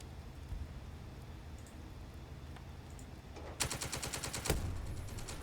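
A tank fires high explosive shells in a World War II video game, a rapid burst of sharp blasts rising from a low rumbling background, then a louder impact near the end.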